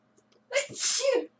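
A single close, sharp human sneeze with a short intake before it, loud and alone against a quiet room during a Rust gaming session.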